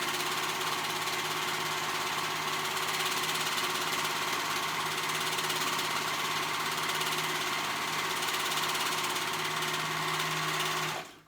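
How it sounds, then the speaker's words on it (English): A sewing machine runs in one steady, continuous burst, stitching together the edges of a dress's cowl liner and outer cowl. The motor whir stays close and even for about eleven seconds, then stops abruptly, with no talking. "I'm gonna sew those edges together of the cowl liner and the cowl"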